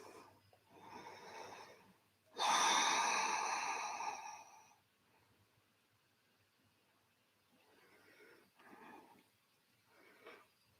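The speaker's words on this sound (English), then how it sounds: "let's take a deeper breath in here" A deep inhaled breath during a yoga flow, one loud, close, sustained intake lasting about two seconds, followed by quieter soft breathing and faint rustling.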